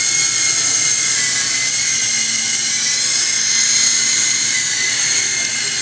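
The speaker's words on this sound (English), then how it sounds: "Good indoor helicopter." A small indoor RC helicopter, the S032 model, hovers close by. Its rotor and motor give off a steady, high-pitched electric whine with a thin buzzing edge. The sound is loud and continuous, and nobody talks over it.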